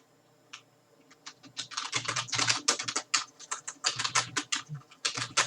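Rapid, crisp keystrokes clatter on a nearby computer keyboard, starting slowly and then running into a dense, uneven burst of typing with brief pauses.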